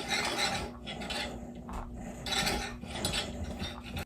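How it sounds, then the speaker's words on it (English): Steel cable grinding and rasping against a Home Depot pulley on a DIY cable row setup, a continuous harsh scraping with rhythmic surges, close and steady throughout. "That grinding is what made my last pulley fail."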